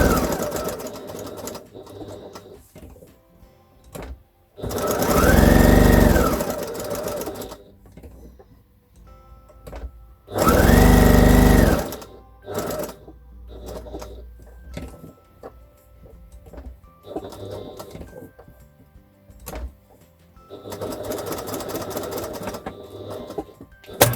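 Sewing machine running a 1/4 inch seam around small lavender-filled fabric bags, several loud whirring bursts with ticking and handling clicks between them, no talking.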